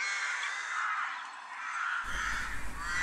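A rook caws repeatedly and fairly loudly, its harsh calls sustained across the moment; partway through, a low rumbling background noise joins in beneath the cawing.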